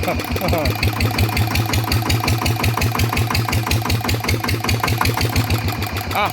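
A Yamaha RT100 two-stroke engine runs at low revs, close by and fairly loud, with a steady fast chugging beat. Voices talk over it.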